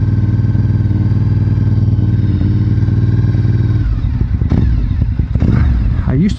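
Motorcycle engine idling with a steady low rumble in stop-and-go commuter traffic, then revving and pulling away with rising throttle bursts and clatter near the end.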